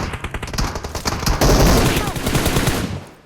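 Rapid gunfire bursts in PUBG Mobile, loud and dense, with a sustained volley after the first second and a voice talking over the shooting.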